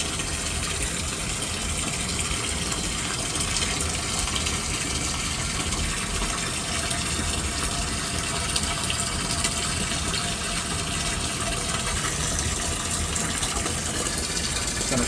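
A basement sump pump running in its pit, pushing water out through an attached hose: a constant, loud, dense gush of flowing water with an underlying motor hum, unbroken throughout.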